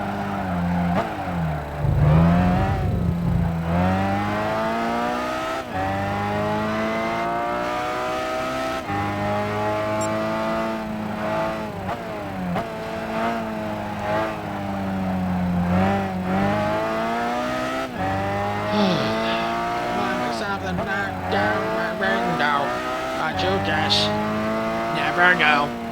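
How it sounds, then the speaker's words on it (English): A roadster's engine rumbles and revs in a Gran Turismo 5 endurance race, rising and falling as it shifts through gears, steady and close for the whole stretch, with occasional tire squeal and a voice talking over it. "just the rumble of the car"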